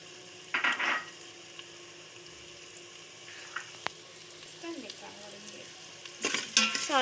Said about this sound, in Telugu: సాల్ట్ వేసుకున్న తర్వాత మిక్స్ చేసుకోవాలి